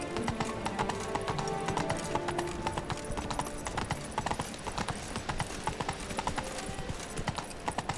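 Rapid, steady clip-clop of the horse Roach galloping in The Witcher 3, close and continuous, with the hoofbeats running over game music and ambience throughout.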